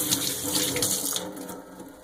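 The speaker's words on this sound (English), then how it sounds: "Just wash my hands real quick here." Hands washed under a running kitchen tap, water splashing steadily into a sink at close range, easing off toward the end, with no talk.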